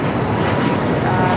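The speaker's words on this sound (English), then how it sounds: "That is KLM 602 taking off to Amsterdam on the 777-200 ER." A KLM Boeing 777-200ER departing LAX for Amsterdam gives a brief, loud, close roar of jet engines at full takeoff power, steady throughout.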